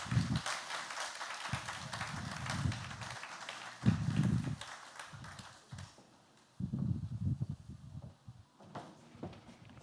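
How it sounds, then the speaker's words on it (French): Audience applause at a Haitian televised quiz show, a live studio crowd clapping in bursts of varying strength with short lulls between them. "Mesdames et messieurs, applaudissez-les."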